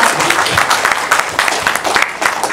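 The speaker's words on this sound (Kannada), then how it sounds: "ಬನ್ನಿ ಒಂದು ರೌಂಡ್ ಚಪ್ಪಾಳೆ" An audience applauds at a Kannada film audio launch event, with loud, dense clapping from a crowd that holds steady for the whole stretch.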